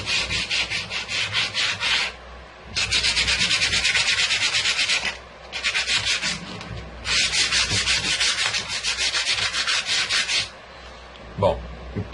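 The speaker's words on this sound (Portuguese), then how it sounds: "então eu vou lixar toda ela e já volto pra gente continuar" A wooden picture frame for a maternity door hanger is hand-sanded to a distressed finish. Loud, close scratchy rubbing comes in long bursts with brief pauses between them, and no one speaks.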